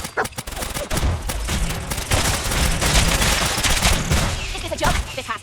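Dense video-game gunfire crackling throughout a battle, a near-continuous fusillade of overlapping shots and bursts at steady loud level.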